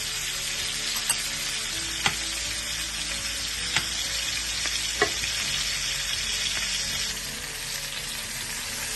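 Rib eye steaks sizzle steadily in a pan while being basted with butter and rosemary, a loud continuous hiss broken by a few sharp spoon clinks, close up and without voices.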